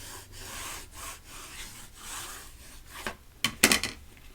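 A big spatula scraped firmly across glued cardboard to smooth it flat, giving repeated rasping strokes up close, with a few sharper, louder scuffs and knocks near the end.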